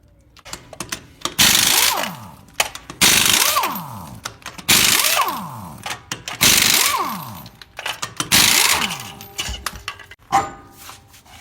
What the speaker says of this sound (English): Let's go ahead and take these lug nuts off.